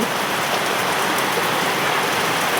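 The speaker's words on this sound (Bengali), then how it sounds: "যে বৃষ্টি হয়েছে যে আওয়াজ, এই আওয়াজের মধ্যে এরকম এত পরিমাণে বৃষ্টি" Heavy rain pours down in a dense, steady hiss, close and loud, with no voices or breaks.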